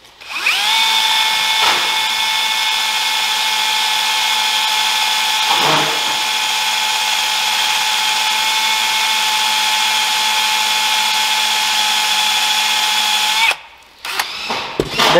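A power drill with a 5/16 bit bores into soft metal while a manlift basket rotator is rebuilt. A loud, steady whine runs close up for about thirteen seconds, with two short dips in pitch, then stops abruptly.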